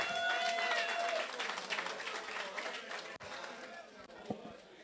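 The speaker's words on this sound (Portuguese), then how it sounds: "Mais aplausos para o Coro Atremura," A live comedy show audience applauds for a choir, with sustained dense clapping and cheers that gradually thin out toward the end.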